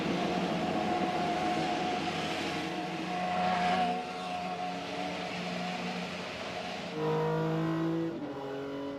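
An IndyCar race car's engine at Phoenix Raceway drones and shifts pitch, with steady tonal whine and rising revs heard from the onboard in-car position, fairly loud and alone without voices.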